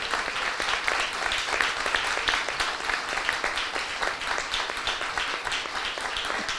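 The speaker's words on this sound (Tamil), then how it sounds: "சத்தமா கையில் தட்டி கர்த்தரை ஸ்தோத்திரம் பண்ணுங்க" A church congregation claps hands in praise, a dense continuous wash of applause from many people at a moderate distance, steady throughout with no voices standing out.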